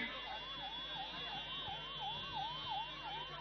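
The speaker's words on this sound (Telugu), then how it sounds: "అంబులెన్స్ కు దారి ఇవ్వండి." An ambulance siren wails steadily in an even rising and falling cycle as it makes its way through a crowd at a public rally at Lal Darwaja in Hyderabad, heard faintly over a low background hum.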